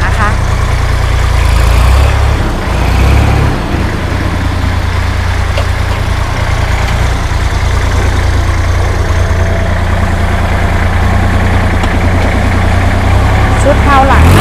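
A Kubota L3408DT tractor fitted with a hydraulic front blade and rear rotary tiller runs at a steady loud, low engine drone, constant throughout and close by.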